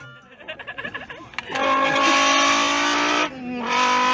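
A person imitates car sounds by blowing into an empty Red Bull can: a few quick pulsing sputters, then a loud sustained buzzing engine-like whine that drops briefly and rises again, close and alone.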